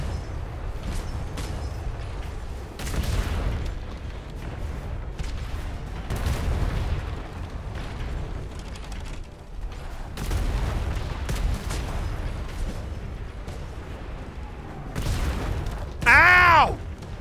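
Ship cannons firing during a naval battle between a galleon and the Ship of the Damned in Atlas, with repeated heavy booms at irregular intervals over rumbling background and a voice talking at times.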